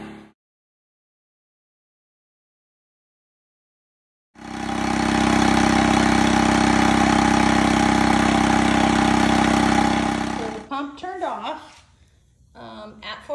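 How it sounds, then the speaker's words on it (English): A Bote electric SUP pump motor starts after silence and runs loud and steady with a constant buzzing hum for several seconds, then stops abruptly as a person starts talking. "it does bounce just because it's vibrations from the motor"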